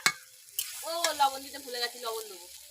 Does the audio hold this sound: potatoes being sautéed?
yes